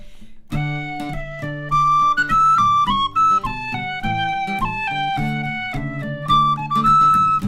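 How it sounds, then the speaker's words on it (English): An out-of-tune Michael Burke tin whistle plays a lively polka, with clear, bright melodic notes in quick rhythmic phrases, solo and close. "It's an out of tune whistle. It's a wonderful Michael Burke whistle."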